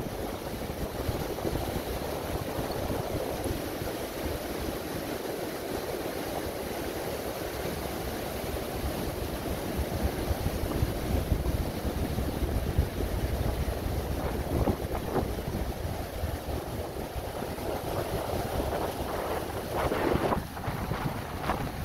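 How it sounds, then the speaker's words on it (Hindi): LeHardy Rapids, where the Yellowstone River drops over its bed in Yellowstone National Park in June, gives a continuous broadband roar of rushing water, with gusts of wind buffeting the microphone throughout and no voices. "येलोस्टोन नदी का रिवर बेड जहाँ थोड़ा ड्रॉप करता है, वहाँ लेहार्डी रैपिड्स हैं।"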